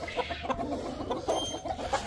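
Several chickens cluck in short, irregular bursts at moderate distance, overlapping in a busy, low-level chatter with no talking.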